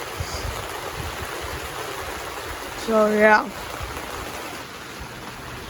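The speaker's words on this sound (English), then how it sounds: "we woke up to a very, very, very heavy downpour" A steady hiss of heavy rain pours down at night without pause, with a brief murmur of a voice partway through.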